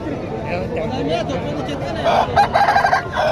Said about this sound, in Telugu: ఇక్కడైతే చాలా మంచి పుంజులు జాతి పుంజులు వచ్చినాయి